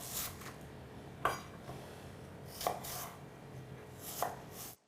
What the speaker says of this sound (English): the rest of the asparagus I'll just cut into small cubes today